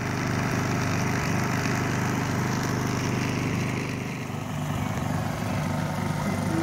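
A small portable generator engine runs steadily outdoors in winter, a constant close mechanical drone with even harmonics and no talk over it.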